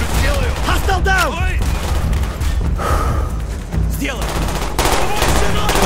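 Bursts of gunfire from the video game Call of Duty: Black Ops, with rapid shots, loud and close, in short volleys separated by brief pauses alongside game effects.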